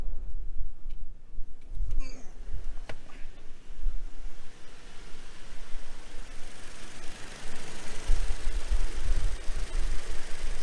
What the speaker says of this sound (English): It's also in park, so it tends to idle a little higher at park.